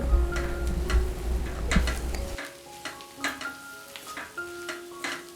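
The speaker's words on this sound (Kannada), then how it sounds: "ಉಪ್ಪನ್ನು ಹಾಕ್ಕೊಂಡು ಅದನ್ನು ಚೆನ್ನಾಗಿ ಕಲಕಿ" Brinjal palya being stirred with salt in a pan, a steady sizzle with repeated scraping and tapping of the spoon against the pan, close and fairly quiet, no voices.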